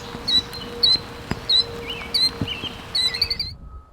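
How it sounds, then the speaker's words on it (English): A killdeer calls in a garden area, sharp high chirps repeating in quick bursts every half second or so, fairly close and clear against a quiet background. "This killdeer is about to remember that he knows how to fly."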